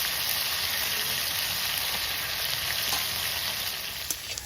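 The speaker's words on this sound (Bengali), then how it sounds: "আলু ভাজতে গেলেই 1 চিমটি হলুদ আর একটু নুন দিই" Potatoes frying in oil with a pinch of turmeric and a little salt, a dense, continuous close sizzle with a few faint clicks of stirring.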